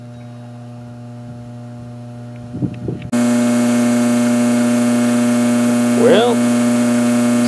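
A hot tub spa's equipment switched back on at the GFI outlet, a loud steady hum starting abruptly after a few quiet seconds and continuing evenly, with a brief voice near the end.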